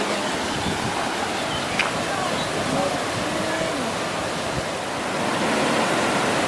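Rushing water of the Fontaine-de-Vaucluse spring in France, a steady broadband roar that stays loud and even throughout, with people talking faintly underneath.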